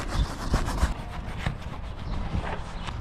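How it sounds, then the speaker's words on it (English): A soapy wash brush scrubs a car's surface during a wash, giving steady close rubbing strokes with a few sharper swipes, heard alone without talk. "we're simply just gonna come through and start scrubbing this down"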